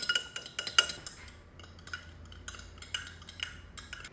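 Food being mixed in a bowl, with quiet, close clinks and scrapes of a utensil against the dish in an uneven stirring rhythm and a faint low hum beneath.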